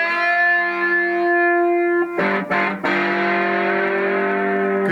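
Sustained electric slide guitar notes on a three-string guitar ring with heavy distortion and echo into feedback, briefly broken by a few choppy cuts before swelling back into a steady drone.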